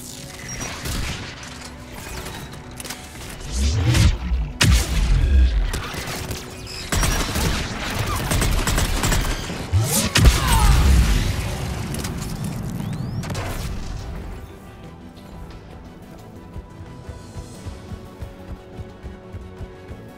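Anti-aircraft guns in Mass Effect 3 pound away in dense, heavy bursts mixed with booms and mechanical clatter, peaking loud mid-clip before easing into fainter rhythmic thuds.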